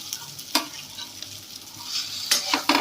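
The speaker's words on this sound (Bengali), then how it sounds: "সর্ষে বাটাটা দিয়ে একটুখানি আমি ভালোভাবে কষিয়ে নেব।" Green beans fry with mustard paste in oil in a pan, a soft steady sizzle broken by several sharp spatula scrapes and stirs, close up and with no one talking.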